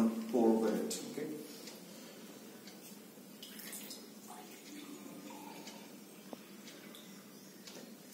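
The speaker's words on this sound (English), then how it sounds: "So we'll put this jug here. Go, and now I'm going to pour over it." Water is poured from a jug in a soft, faint trickle that sits low beneath a person talking in the room.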